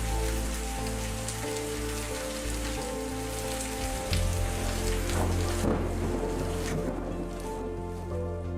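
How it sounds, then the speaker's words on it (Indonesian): Steady rain falls on surfaces, running through a roof gutter into a vertical drainage catchment, a dense constant patter and rush of water with a low hum underneath, no voices. "seperti ini kalau sedang turun hujan. Air akan masuk melalui talang dan ditampung di drainase vertikal."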